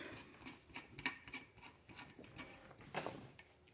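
An all-aluminum threaded extension handle is screwed tight on a folding Coleman shovel, giving close, soft rubbing and rasping scrapes in irregular short bursts, with a stronger grind near the end and no talk.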